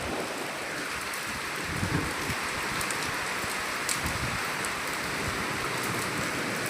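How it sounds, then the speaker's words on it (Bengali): Heavy rain pours down at midday after a storm, a dense, steady hiss of downpour with scattered louder drop impacts, unbroken and even throughout with no voices. "এখন শুরু হয়েছে বৃষ্টি, খুব জোর বৃষ্টি।"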